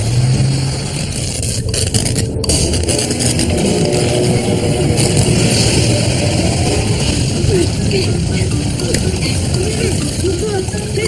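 A car engine drones steadily during a cab chase in a cartoon, loud and continuous, with voices and other sounds layered over it.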